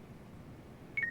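A phone call in the video game Lost Judgment ends with a short electronic hang-up beep, a quick double tone over faint background hiss.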